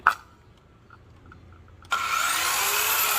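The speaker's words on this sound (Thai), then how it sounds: "เดี๋ยวมาลองเลื่อยวงเดือนนะคะ" After a near-silent pause with faint ticks, a circular saw powered through a 12V-to-220V 3,000W inverter snaps on abruptly and runs with a loud, bright, steady whine close up.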